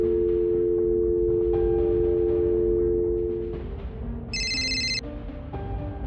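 A telephone rings during a call, a steady electronic ringtone with a brief higher chime partway through, fairly loud and alone.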